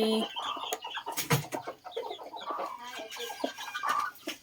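Chickens cluck in short, irregular bursts close by in the morning, with a sharper crow-like call in the middle and scattered calls from more birds, no talk.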